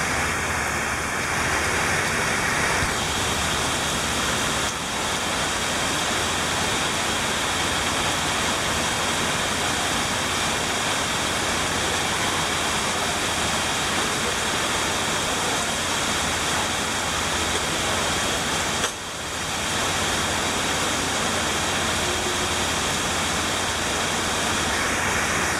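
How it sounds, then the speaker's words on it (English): Heavy rain from Hurricane Irma pours steadily outside, a dense, unbroken roaring wash of noise with no voices, lasting throughout. "It is now pouring quite heavily."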